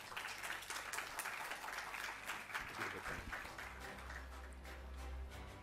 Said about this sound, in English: Again, a round of applause for Tuan Haji Technologies Abdul Razib Daud,